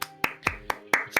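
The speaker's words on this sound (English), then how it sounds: "A round of applause, please." Podcast hosts clap in a small room, six crisp, evenly spaced hand claps in quick succession, close and clear with nothing else behind them.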